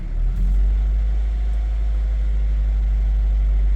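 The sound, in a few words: Honda CR-V engine running after valve lash adjustment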